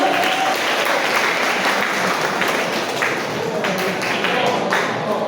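A church congregation applauds its pastor at a parish handover ceremony, sustained, loud, even clapping from a crowd with a few sharper individual claps standing out.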